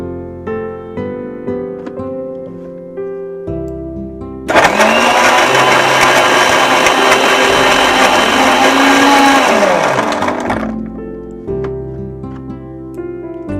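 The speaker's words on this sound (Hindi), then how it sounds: "कर लेंगे ब्लेंड।" A blender whirs loudly for about six seconds, grinding chikoo with ice into a milkshake; the motor's pitch shifts as it runs, then cuts off, with quieter kitchen music before and after.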